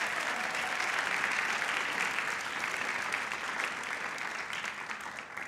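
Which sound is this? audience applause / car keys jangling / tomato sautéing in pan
audience applause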